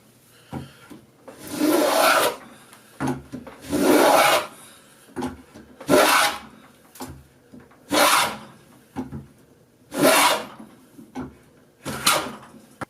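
A Stanley 55 combination plane cuts a round profile in wood with repeated rasping strokes, about seven evenly spaced passes, close and loud with quiet handling noises between them.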